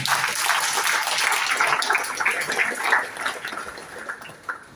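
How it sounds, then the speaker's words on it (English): Applause from a workshop audience honoring a former AICTE chairman, a dense wash of many hands clapping at moderate level, steady then thinning and tapering toward the end. "I think a big applaud to him and his team"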